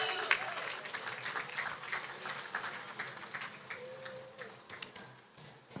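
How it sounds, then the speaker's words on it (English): An audience claps steadily for several seconds, a dense patter of applause at moderate distance that gradually thins toward the end. "Let's give a round of applause for Keneally."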